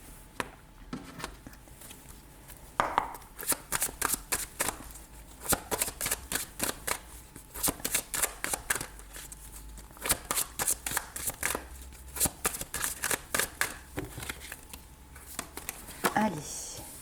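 Oracle cards are shuffled in repeated crisp riffling bursts, close and steady, with occasional soft handling sounds between them.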